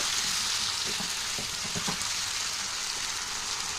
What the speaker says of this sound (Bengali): এই যে মশলাটাও আমি দিয়ে দিলাম, একটু কষিয়ে নেব।